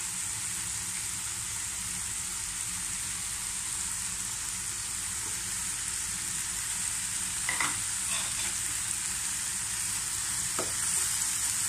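Shrimp paste (alamang) sizzles steadily in a pan for spicy sautéed alamang, with a few scraping stirs breaking through near the end; close and continuous, with no talking.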